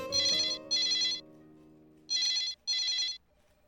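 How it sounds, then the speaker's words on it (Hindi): Two pairs of electronic telephone ringtone bursts with a pause between them, clear and fairly close, over a faint low hum, in a women's police station in Lucknow. "मैडम सर आपके लिए फोन है।"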